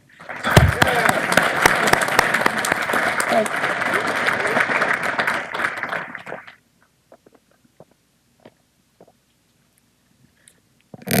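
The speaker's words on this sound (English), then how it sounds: "I'd like for you to give an applause for the whole bunch." An audience at a hall of fame induction ceremony claps loudly and steadily for about six seconds, then the applause stops abruptly, leaving near silence with a few faint sounds.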